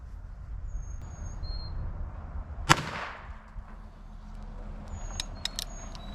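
A single sharp rifle shot fired at a target rings out close and loud with a quick decaying echo, against a steady outdoor background and a few faint high tones.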